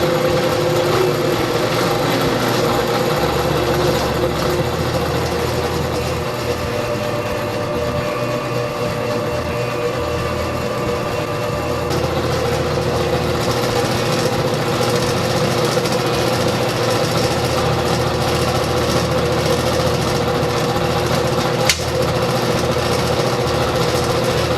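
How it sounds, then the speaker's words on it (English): A Wen 4214 benchtop drill press runs steadily at 1180 RPM on an old Workmate bench, a continuous motor hum and rattle with rushing air, loud and unbroken throughout. "That was my old workmate rattling"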